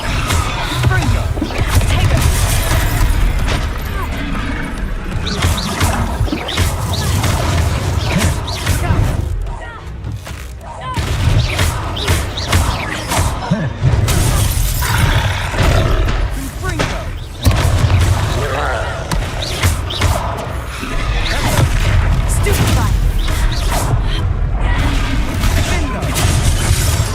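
Repeated Confringo blasting-spell explosions in Hogwarts Legacy, a dense run of booming blasts and crackling bursts filling the stretch, with brief lulls between volleys and game voices mixed in.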